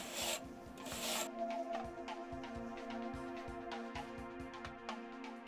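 A mason's trowel spreads thick mortar plaster over an uneven red clay brick wall, giving repeated close scraping and rubbing strokes in a steady rhythm.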